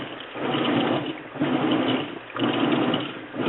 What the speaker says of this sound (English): This is on a heavy-duty wash cycle.